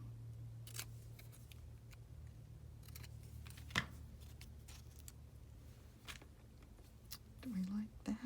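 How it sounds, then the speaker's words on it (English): Scissors snipping and trimming paper at a craft table for a journal, with a few sharp close cuts among soft handling rustles and a quiet low hum. "Oh, here's my scissors."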